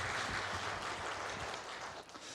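Applause from a church congregation during a Sunday service, thanking a deaconess for preparing yakbap for fifty people; a broad, steady wash of clapping that holds fairly level and begins to thin toward the end.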